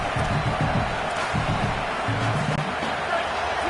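A stadium crowd in an NCAA college football game keeps up a steady, dense roar with some clapping, beneath a commentator's voice.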